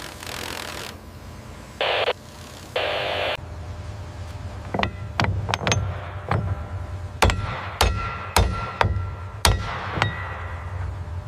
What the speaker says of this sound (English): Start the tightening sequence on the gudgeons.